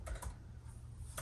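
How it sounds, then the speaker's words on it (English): Keys clatter briefly on a MacBook Pro 14-inch keyboard, a few close, soft, quick taps in a quiet room. "I'm still getting used to typing on this thing"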